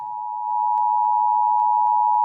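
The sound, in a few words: emergency alert attention signal, 853 Hz mixed with 960 Hz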